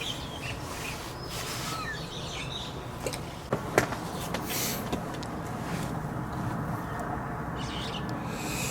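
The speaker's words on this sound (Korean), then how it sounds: "새들 엄청 시끄럽네요" Scattered calls and chirps of magpies and other birds, fairly distant, over a steady outdoor background hiss at a reservoir fishing platform, with a few sharp clacks in the middle.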